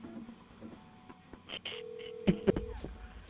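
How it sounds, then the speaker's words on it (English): Phone dialing a call in the video game GTA V, with the character in water; a sustained electronic tone with short beeps sounds over muffled underwater ambience and a few clicks. "I'm gonna call Wesker, because apparently my phone is waterproof."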